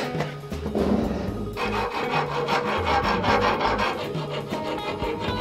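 Someone saws through the wall of a cardboard base to escape, making close, repeated rasping back-and-forth strokes in a steady rhythm, with no talking.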